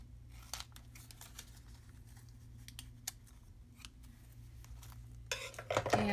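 Scissors snip paper for a journal page in a series of short, crisp cuts at close range over a quiet room, followed by louder paper rustling at the end.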